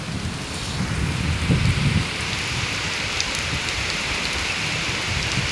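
Heavy monsoon rain pours steadily in a village setting, a dense continuous hiss close by, with a slightly louder burst of splashing early on and no voices.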